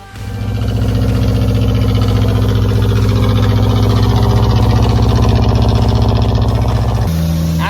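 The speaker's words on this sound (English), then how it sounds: "サニーのエンジンは全然いい音してるんだよね" A Datsun Sunny truck engine idles steadily close by, a smooth, loud, even rumble with a slight pulse that shifts briefly in pitch near the end.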